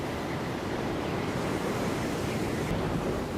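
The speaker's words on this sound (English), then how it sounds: "The waves created can reach 20 meters high as they smash into coastlines." Large ocean waves break against a coastline in a continuous, dense roar of surf, steady and fairly loud with no distinct individual crashes standing out.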